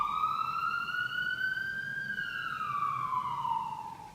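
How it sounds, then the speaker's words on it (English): A siren wave file plays from an Arduino Leo Ethernet board, a single electronic tone sweeping slowly up and back down, steady and fairly faint with no voices over it. "First one being a siren along with a motion detected message."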